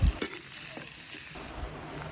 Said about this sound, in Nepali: बेसार लाएर भुट्दैछु